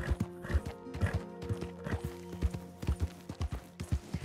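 Horse hooves clip-clop at a steady walking gait in Red Dead Redemption 2, close and rhythmic, layered over game music with an occasional whinny.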